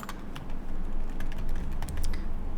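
Rapid typing on a computer keyboard as a nickname is entered, a steady stream of close, crisp key clicks over about two and a half seconds with no talking.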